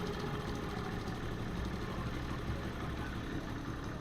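A Honda CD 70 motorcycle engine idles steadily and low, a smooth continuous rumble heard up close with no talking.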